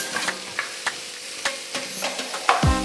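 Chicken with pepper sears in a hot pan, a steady close sizzle punctuated by sharp scraping clicks of stirring and a louder clatter near the end.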